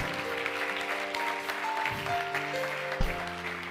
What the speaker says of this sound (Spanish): dele un aplauso a Dios más fuerte